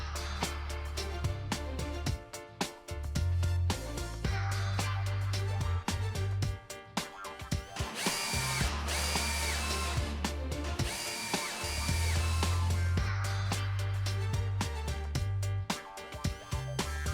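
A power drill drives screws into wood while folding stairs are built, in repeated loud bursts of whirring that rise and stop, with short pauses between them.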